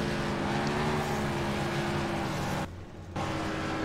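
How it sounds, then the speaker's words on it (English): An NRL race car at New Hampshire does a victory burnout after winning the race, a loud sustained engine roar with a steady droning tone, heard from a distance, briefly dropping out near the end before resuming. "Ricky Emerson getting his burnout here for winning the race here this afternoon."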